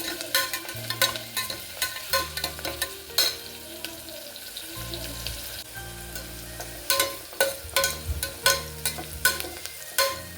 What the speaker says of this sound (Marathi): कांदा मी परतून घेतलेला आणि त्यानंतर मी मसाले टाकले थोडं कांदा परतायचं बाकी आहे